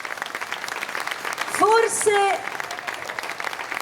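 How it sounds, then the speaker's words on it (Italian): A crowd at an outdoor evening show in Piazza Manzoni, Jesolo, applauds in honour of the late Toto Cutugno, a light, steady patter of clapping heard under a voice that rises briefly in the middle. "Gli facciamo un applauso."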